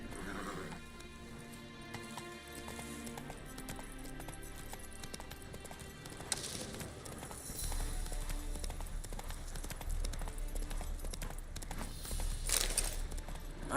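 Roach the horse from The Witcher 3 trots with steady clip-clop hoofbeats and gives a couple of neighs and whinnies, set against game music and ambience that swell louder midway.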